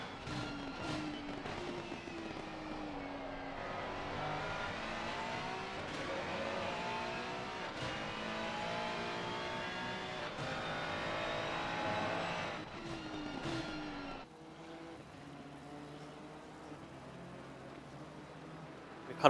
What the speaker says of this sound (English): a perfect opportunity to hear the engine sounds through this final sector